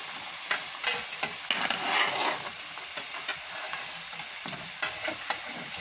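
Potato and onion pakoras fry in hot oil with a steady close sizzle, while soft scraping and stirring knocks sound as the pieces are turned over.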